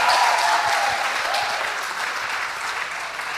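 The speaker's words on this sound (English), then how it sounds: "Please give them a round of applause." Steady, loud audience applause for the winning Moi Forces Academy debate team, a dense wash of many hands clapping together that fades slightly toward the end, with a faint voice briefly audible near the start.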